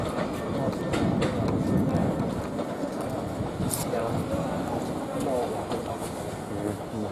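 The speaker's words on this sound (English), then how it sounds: "the HST is coming in" An HST high-speed train arrives on a winter railway line, its steady rumble and rail clatter running loud and continuous throughout while people talk nearby.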